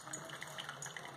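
Hot water running through a new Marvel Spider-Man 12-ounce coffee machine on a cleaning cycle, a faint bubbling, gurgling trickle of liquid that is brief and steady, with no voices.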